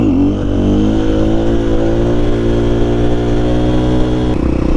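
An XR80 motorcycle fitted with a KTM power bundle revs hard and close, holding a high, steady engine note before dropping off near the end.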